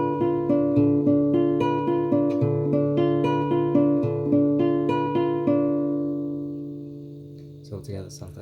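A guitar chord is picked note by note in a steady repeating pattern for several seconds, bright and close, then left to ring and decay, with a brief voice starting at the end.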